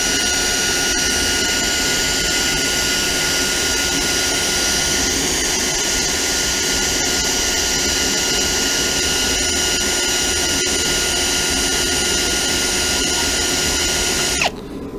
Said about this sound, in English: this eraser wheel literally just tears through this sticker